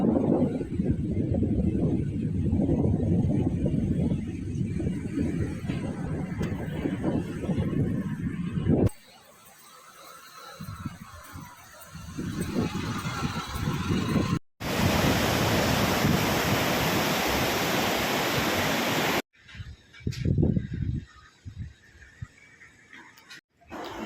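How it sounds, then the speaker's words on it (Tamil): Water and waves outdoors in a cool evening breeze at a riverside fishing spot, a steady broadband wash of surf with wind buffeting the microphone, changing character across a few cuts, no talking. "அந்த சில்லுன்னு சாயந்தர டைமில் காற்று, அந்த தண்ணி சவுண்டு அப்படியே செம்மையாக இருந்ததுங்க"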